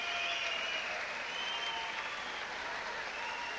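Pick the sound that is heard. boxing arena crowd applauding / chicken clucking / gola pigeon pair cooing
boxing arena crowd applauding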